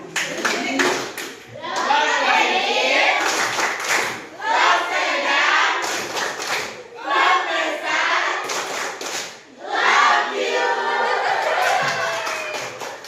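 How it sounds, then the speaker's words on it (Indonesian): A classroom group claps for a student named Akbar, a dense burst of close hand clapping that swells and dips over several waves, mixed with children's voices and chatter. "Boleh tepuk tangan."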